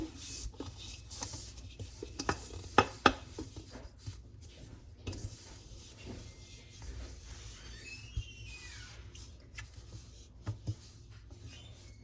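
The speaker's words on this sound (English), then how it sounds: "I like my rubber spatulas because it scrapes all my dough out" A rubber spatula scraping bread dough out of a mixing bowl, heard as soft, close rubbing and dragging strokes with a few sharper knocks against the bowl, fairly quiet and intermittent.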